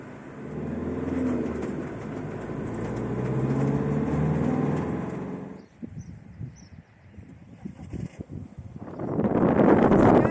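A car drives along a Scottish Highlands road, its steady tyre and engine rumble filling the first half, then dropping to uneven lighter road noise before swelling loud again near the end, with no talk.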